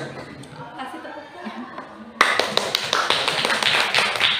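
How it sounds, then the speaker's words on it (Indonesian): Applause from an audience at a workshop session, starting abruptly after a quiet stretch of background voices and continuing as a dense burst of hand claps with individual sharp claps standing out. "Kasih tepuk"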